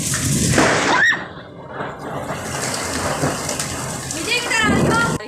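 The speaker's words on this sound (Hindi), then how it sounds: "बारिश भी इतनी तेज़ थी और बिजली भी बहुत ज़्यादा थी आसमान पे" Heavy rain pours down steadily with loud cracks and rumbles of thunder, while a voice speaks faintly beneath the downpour.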